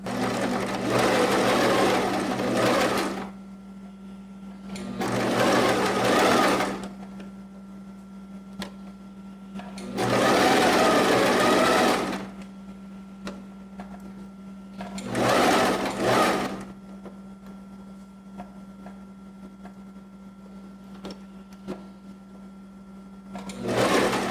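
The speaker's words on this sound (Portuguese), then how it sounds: "Agora eu vou fazer uma costura de 1 centímetro." A sewing machine stitches a 1 cm seam in five loud close bursts of rapid running, each a few seconds long, separated by quiet pauses.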